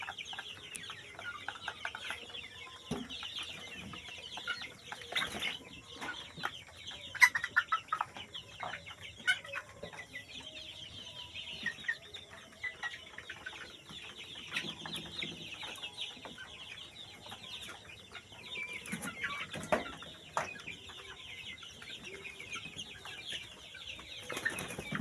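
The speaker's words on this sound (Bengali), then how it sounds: "আমার সোনালী মুরগির ফার্ম আপনারা দেখতেছেন।" Young Sonali chickens on a small poultry farm cluck and chatter steadily, with scattered sharper calls and the odd louder squawk. The flock sounds fairly soft and close.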